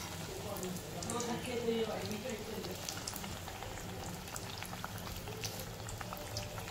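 Bhaji fritters fry gently in oil over a low gas flame, giving a soft, steady bubbling sizzle with faint crackles, fairly quiet and continuous, with no one talking.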